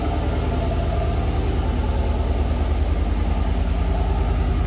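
A 2020 Chevrolet Silverado 1500 Custom Trail Boss idles steadily after a remote start, giving a low, even engine hum and exhaust burble that holds unchanged throughout, heard alone at moderate distance.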